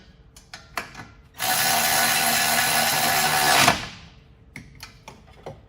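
Power tool runs for about two seconds tightening the caliper bracket bolts on a 2006-2012 Ford Fusion during rear wheel bearing work, with clicks and clunks of handling before and after.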